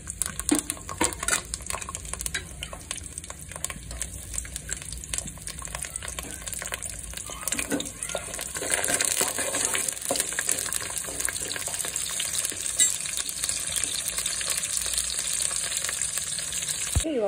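Green chillies, curry leaves and coriander sizzle in hot oil for a brinjal curry, a steady crackling fry that grows louder and busier partway through, with some clinking and stirring and no talking.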